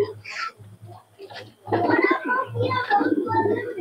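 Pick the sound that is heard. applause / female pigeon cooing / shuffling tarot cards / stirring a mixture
female pigeon cooing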